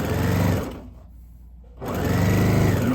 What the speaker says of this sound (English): we're sewing down until we reach the first of those pins